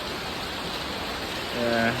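Rain starts to fall outdoors in a steady, dense hiss of drops, with a brief voice rising near the end.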